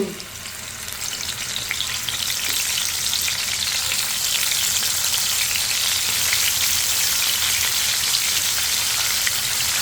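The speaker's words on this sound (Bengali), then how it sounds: "আমি এখন মাছগুলো দিয়ে দিচ্ছি ভাজার জন্য" Colombo fish pieces frying in oil in a frying pan, a dense loud crackling sizzle like rain on a surface, steady and close throughout, no voices.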